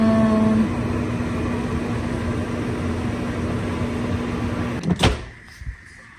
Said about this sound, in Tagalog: Iniinit ko lang sa microwave ngayon guys.